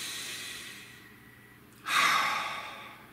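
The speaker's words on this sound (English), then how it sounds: "Nice deep breath." A single deep breath: a faint, soft inhale followed by a louder, airy exhale like a sigh near the end, close and alone.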